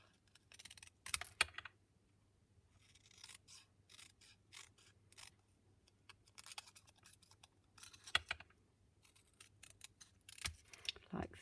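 Card paper being trimmed for card making, quiet intermittent clicks and crisp cutting snips in scattered bursts, faint and close with near silence between.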